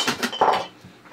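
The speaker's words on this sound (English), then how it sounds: "just dropped a jug of powder" An empty plastic powder jug drops and clatters during AK parts-kit work with a punch and hammer, a short cluster of light knocks and rattles heard nearby, with no talking.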